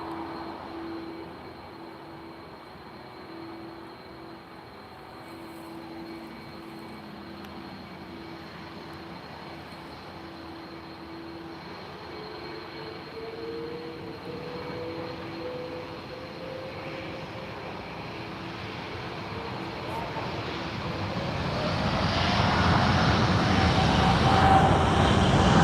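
TAP Air Portugal Airbus A330 jet engines at Lisbon Airport, a steady broadband roar that swells and grows louder toward the end as the airliner nears, with a faint tonal whine drifting underneath.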